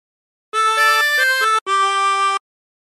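A 20-hole tremolo harmonica plays the second phrase of a tune. Bright, wavering reedy notes move in a short melodic run, then a brief gap leads into one long held note. It is close and clear, with no voice.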